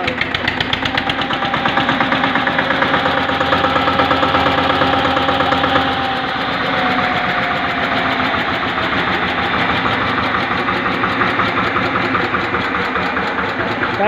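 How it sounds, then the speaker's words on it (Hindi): A 2013 Eicher 242 XTrac tractor engine runs loud and close, its diesel knock chugging in a rapid steady rhythm, with throttle changes lifting and then settling the pitch partway through. "बस वहीं बैठ कर थोड़ी रेस ही दे दिए स्टार्ट करके ना।"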